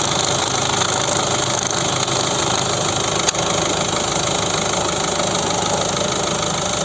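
A 2015 Ford Focus III with a 1.5 diesel engine and manual gearbox runs steadily close by, a loud, even mechanical drone with a faint knocking texture and no clear rise in pitch.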